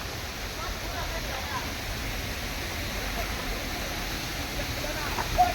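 Water rushes steadily at Hurnatso waterfall, a constant broad roar that stays even throughout with a brief louder splash near the end.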